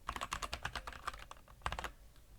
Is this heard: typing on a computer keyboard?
yes